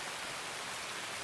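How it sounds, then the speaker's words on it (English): Rain falling in the video game Escape from Tarkov on the Shoreline map, a steady dense hiss of downpour with no breaks, quiet and even throughout. "it is raining, which means it's a bit dark"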